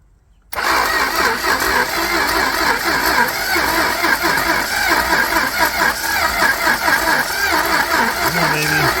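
A 1968 Dodge Coronet, left sitting for 44 years, catches and starts abruptly after a moment of quiet, then settles into a loud, steady, rough-running rumble with constant engine roar close by.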